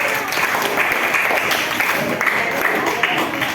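A classroom audience at a microteaching session applauds a student group, producing steady, dense clapping at close range that holds for the whole stretch.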